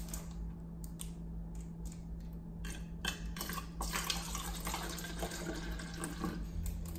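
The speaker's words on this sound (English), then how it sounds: "Let's pour some water in." Purified bottled water from Ohio pours into a small cup, a quiet trickling and splashing that keeps on over faint clicks and background hum.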